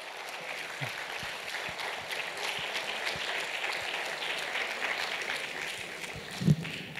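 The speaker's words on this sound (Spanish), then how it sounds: "Vamos a dar otro fuerte aplauso." Audience at a municipal music school's folk group presentation in San Bartolomé de Tirajana clapping steadily, a sustained mid-distance wash of applause with one louder thump near the end.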